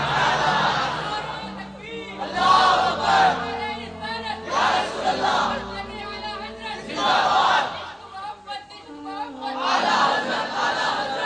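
A large crowd chants religious slogans in loud rhythmic waves, several rising call-and-response surges of many voices shouting together, close and reverberant, with brief lulls between.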